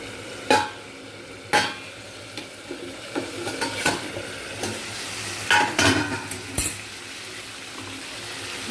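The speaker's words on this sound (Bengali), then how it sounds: "কাঁকড়া দিয়ে আর একটুখানি কষা হতে দেবো" Crab being sautéed in a pan, a steady low sizzle of frying under repeated sharp scrapes and clinks of a spatula stirring against the pan, close and without talk.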